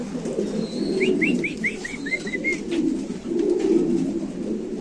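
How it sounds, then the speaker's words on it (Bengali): Mundian pigeons cooing in a loft or market pen, a quick run of soft rising coos repeated about eight times over steady background murmur and rustle, close by. "আমরা একটু কবুতরগুলো দেখাই দিই"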